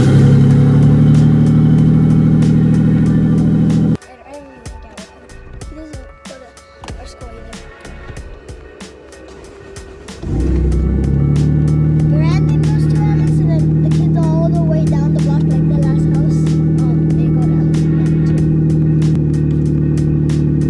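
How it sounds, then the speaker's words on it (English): A Toyota Supra cold-starts with one catalytic converter behind the turbo, its engine droning loudly, dropping off for several seconds, then firing back to a strong, steady high idle close by. "So this is a cold start with one catalytic converter on that's straight behind the turbo."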